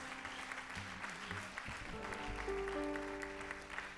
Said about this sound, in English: everybody clap your hands one time to the Lord